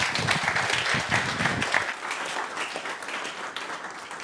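Audience applause at a climate breakfast debate on Norway's Wisting oil field, a dense burst of clapping that rises quickly, then thins out after about two seconds into scattered, fading claps.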